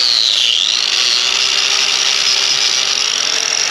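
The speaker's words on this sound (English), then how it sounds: "we're grinding a little spot so that we can make a good connection with our ground clamp" An angle grinder whines steadily at high pitch as it grinds rust off a bolt end on a junkyard cylinder head, a loud, continuous abrasive hiss close by with no talking.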